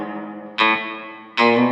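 Two strummed electric guitar chords through the reverb of a Zoom MS-50G multi-effects pedal, each ringing out into a roomy reverb tail that fades before the next strike.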